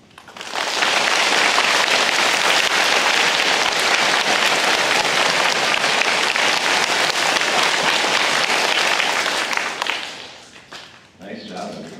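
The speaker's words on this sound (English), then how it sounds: "Please give a warm round of applause" Loud, sustained audience applause fills a Veterans Day ceremony in Griswold, holding steady for about ten seconds before tapering off into a few scattered claps and faint voices.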